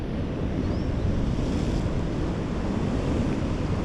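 Rough sea waves churn under strong gusting wind, a dense, continuous roar of surf and buffeting air across the microphone, with no voices.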